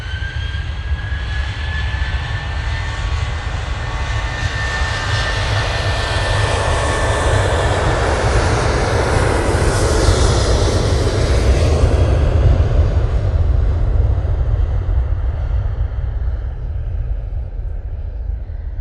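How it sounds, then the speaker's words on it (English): A Boeing 737-800 jet takes off at Manchester Airport, its engines a loud, steady roar that swells to a peak midway and then slowly fades as the aircraft climbs away, with no talk over it. "They're off to Split with that 737-800."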